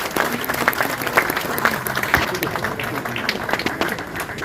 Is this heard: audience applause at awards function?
yes